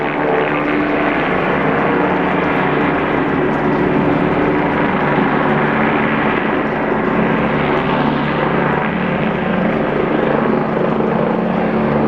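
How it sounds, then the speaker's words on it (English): A military helicopter's loud, continuous rotor roar fills the air overhead, steady throughout with a slight swell in the middle. "Looks like a military helicopter."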